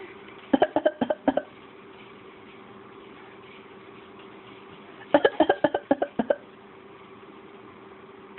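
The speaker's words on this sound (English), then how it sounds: "Show your fakey cough." Two clusters of short, forced fake coughs, a quick run of about six staccato bursts followed after a pause by another similar series, fairly close over a steady low hum.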